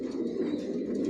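Silver racer pigeons in a loft give a soft, close, continuous coo, with a low throaty warble that swells slightly near the end.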